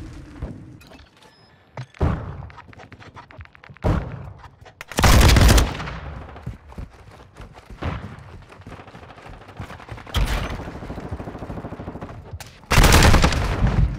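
Gunfire in the video game Call of Duty: Modern Warfare II: rapid bursts of automatic fire and single sharp cracks crowd the scene, with several loud, heavy blasts standing out, close and intense throughout.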